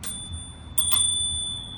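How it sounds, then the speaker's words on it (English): A small bell on a Bugatti electric scooter gives two bright, clear dings close by, each ringing on with a sustained metallic tone over quiet background hiss. "we have a small bell"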